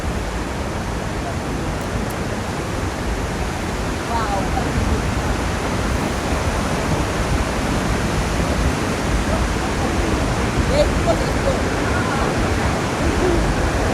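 Victoria Falls in Zimbabwe roars as a massive volume of water plunges over the gorge, a dense, unbroken wash of noise that stays loud and steady throughout.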